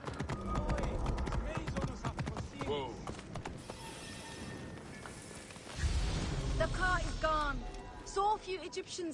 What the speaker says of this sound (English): This horse is pretty agile, just running up the stairs like this.